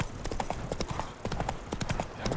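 Horse hooves clip-clop steadily along a dirt trail in The Witcher 3, a close, even rhythm of repeated hoof strikes with a brief whinny-like touch and faint game ambience behind.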